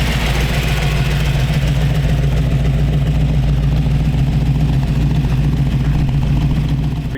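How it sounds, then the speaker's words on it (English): A 327 Chevy V8, roughly a 1967 block, idles in a 1932 Ford three-window coupe hot rod, giving a loud, steady, close rumble with an even low pulse that holds throughout. "327 Chevy V8."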